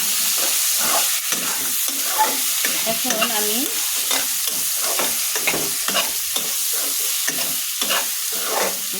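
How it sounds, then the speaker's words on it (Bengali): Potatoes fry in a pan with a loud, constant sizzle while a spatula scrapes and stirs in repeated strokes close by, and a voice speaks briefly. "দিয়ে দিলাম আলু, দিয়ে ভালোভাবে নাড়াচাড়া করে নিচ্ছি।"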